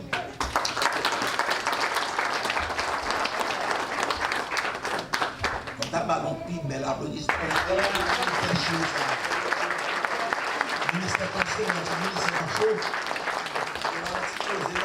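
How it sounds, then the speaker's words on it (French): A church congregation at a pastor's ordination breaks into dense, sustained applause that fills the room for the whole stretch, with voices speaking over the clapping. "Je vous demande de l'applaudir."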